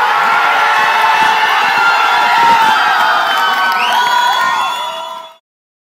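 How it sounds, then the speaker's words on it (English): A crowd at an India vs Australia cricket match cheers, whoops and shouts loudly in a sustained, dense roar with high excited voices rising above it. The noise fades out near the end. "here was the crowd's applause"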